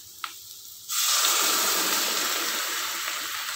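Liquid pours into a tempering pan of onion and curry leaves, a steady rushing hiss that starts after a faint clink and continues evenly, close and moderately loud.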